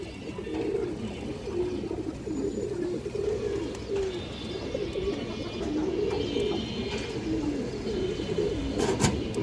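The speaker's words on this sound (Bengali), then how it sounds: "এক হাত সাইজের একটা কবুতর" A hand-sized pankhi pigeon coos repeatedly in soft, low, rolling phrases, close by over a faint steady background hiss.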